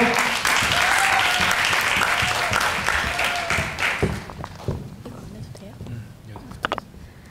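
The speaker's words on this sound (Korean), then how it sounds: "큰 박수로 맞이해 주십시오" An audience claps loudly to welcome a student speaker at a university admissions case presentation. The broad applause fades out over several seconds, leaving scattered claps and faint murmuring.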